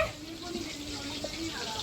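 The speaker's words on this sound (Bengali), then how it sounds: "দেখো দিদা এখন তেলের পিঠে ভাজছে" Pitha frying in oil on a stove at home, a steady soft sizzle running throughout with faint background murmur, moderately close.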